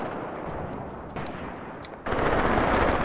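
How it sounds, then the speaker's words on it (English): An artillery barrage in the tank-war game Graviteam Tactics during an assault on Popov: dense rolling gunfire and booms that swell into a louder, continuous thunder in the last second, with no voices. "our artillery preparation for the assault on Popov begins"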